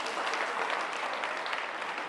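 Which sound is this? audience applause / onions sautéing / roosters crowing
audience applause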